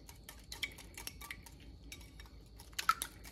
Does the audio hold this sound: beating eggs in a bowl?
yes